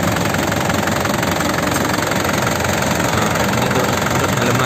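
A black 2012 Grand Touring car engine idles steadily close by, a dense continuous rumble with a faint knocking texture, running alone without talk throughout.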